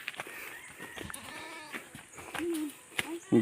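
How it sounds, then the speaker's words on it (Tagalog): Goat bleating on a mountain trail, a couple of short nasal calls rising near the end over rustling and outdoor noise, with people talking faintly around it. "Kambing."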